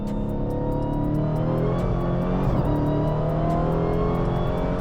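A Dodge Demon 170 engine pulls hard under acceleration, a loud sustained roar with rising harmonic tones climbing steadily as the car gathers speed, heard alone.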